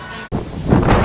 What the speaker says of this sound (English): it is windy outside